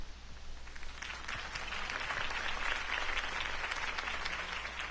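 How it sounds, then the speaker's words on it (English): Steady applause from a crowd in the video game Batman Telltale, a dense wash of clapping that holds at an even level throughout. "could have heard that applause"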